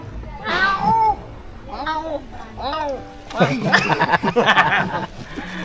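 A cat meows several times in rising, drawn-out calls, close and clear, with people talking around it in a rural home setting.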